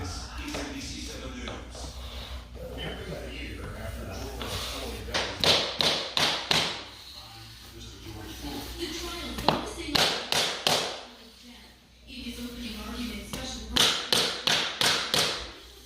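Pergo laminate flooring planks being snapped and tapped into place, sharp rhythmic knocks in clusters of four or five, with someone talking between the bursts.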